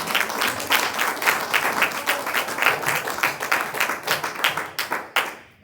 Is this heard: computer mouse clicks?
no